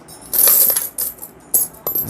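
Old Indian two-rupee coins clinking and jingling as they are handled up close, loud bright metallic rattles in several bursts with short pauses between.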